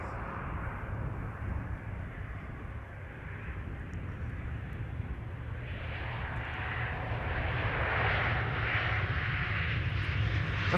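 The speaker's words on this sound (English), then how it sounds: "It is KLM flight 1268 arriving from Copenhagen, and that's an Embraer 175" A KLM Embraer 175 regional jet arrives at Amsterdam Schiphol, its distant engine rumble swelling into a louder whining roar over the last few seconds.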